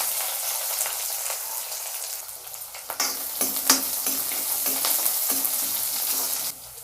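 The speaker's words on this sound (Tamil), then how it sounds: "நம்ம அரிஞ்சு வச்ச 1 வெங்காயம் போட்டுக்கலாம்." Chopped onion sizzling in hot oil with mustard seeds, cumin and chana dal for Andhra-style ridge gourd curry, a constant close frying hiss with stirring scrapes and brief spattering pops.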